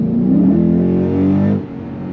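A Lexus engine with a lightweight crank pulley kit revs up loudly, its pitch climbing and holding, then drops off sharply as the throttle is released near the end.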